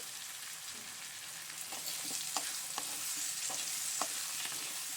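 Taro roots with tomato and turmeric being stirred in a pan for a village-style curry, a soft sizzle beneath regular scraping strokes, fairly quiet and close, with no voices.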